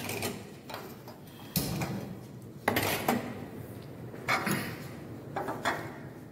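A tadka frying pan is handled on a home stove for a crunchy burger recipe, with several sharp metallic clanks and scrapes at irregular intervals between quieter handling noises, close by.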